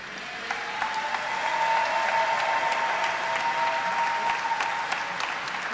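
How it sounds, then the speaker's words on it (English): At a fire department recruit graduation ceremony, the crowd gives the new recruits a full, steady round of applause that swells and holds throughout, with a faint sustained tone running beneath it. "Let's give a round of applause for our recruits."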